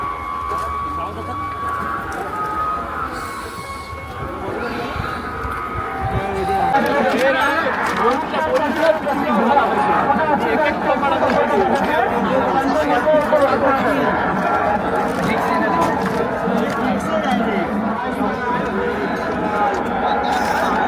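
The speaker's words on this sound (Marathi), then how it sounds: "तर गाईस गर्दी भरपूर आहे." A large crowd gathered at the Ekvira temple for the palanquin procession, a dense steady babble of many voices close around, growing fuller after the first few seconds, with a voice talking nearby.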